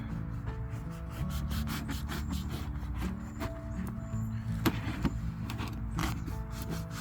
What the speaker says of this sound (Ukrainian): А хліб ріже, ніж дуже добре.